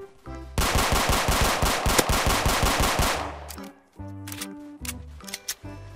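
Gunfire in the Roblox video game, a fast automatic burst of loud close shots lasting about two and a half seconds, followed by a few scattered clicks and game sounds.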